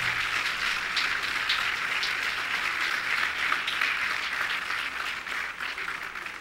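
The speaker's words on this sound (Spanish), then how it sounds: "le dan un fuerte aplauso al rey" Steady, loud applause from a large crowd applauding a king fills the whole stretch, dense clapping that fades slightly near the end.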